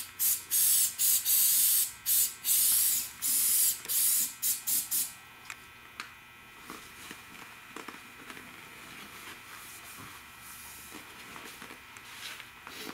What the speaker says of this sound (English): Now I sprayed a little of this stuff on.